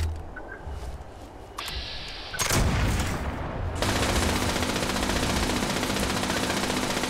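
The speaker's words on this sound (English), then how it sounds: "World's loudest gun." An extremely loud gun in Fallout 76 fires in a sustained, dense barrage that erupts after a couple of seconds of quieter game ambience and keeps roaring nonstop to the end.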